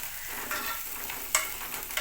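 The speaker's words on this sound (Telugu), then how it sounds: "కొంచెం ఉడికిన తర్వాత అల్లం వెల్లిపాయ పేస్ట్ వేయాలి" Ginger garlic paste frying in a pan for a spinach egg curry, a soft steady sizzle broken by a few light stirring scrapes, with no one speaking.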